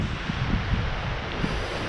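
Storm wind gusting around a bushcraft tarp shelter, a steady broadband roar with low rumbling buffets striking the microphone, continuous and unbroken with no talking.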